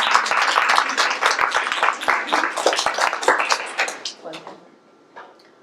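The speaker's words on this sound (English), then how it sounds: "I think a round of applause for you." Audience applause for a diversity panel, a dense wash of many hands clapping that builds loudly, then thins and fades to scattered claps near the end, with some voices mixed in.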